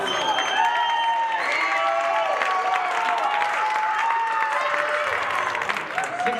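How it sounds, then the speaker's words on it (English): A crowd at a live Nashville Crushers versus Louisville Colts league game applauds and cheers steadily, a dense wash of clapping with rising whoops and whistles, loud and sustained throughout, with some indistinct voices mixed in. "The crowd certainly appreciating this first power play and substitution from the Crushers."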